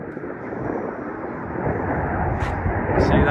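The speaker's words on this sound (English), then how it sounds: "I think that's a fighter jet coming over." A fighter jet roars overhead at a building site where decking and a sleeper wall are going in, a steady broad rumble that swells louder toward the end, with no voices.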